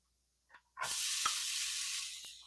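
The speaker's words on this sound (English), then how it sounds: "So we're going to melt a little bit of butter in there. And we're going to throw in some onion." Onion is dropped into melted butter in a hot pan after a light clatter, setting off a sudden loud, steady sizzle that carries on close by with a couple of small taps.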